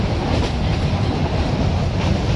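A metre gauge train running through Gir forest, heard from on board as a loud, continuous rumble with rhythmic clatter of wheels over the rails, steady for the whole stretch without talk.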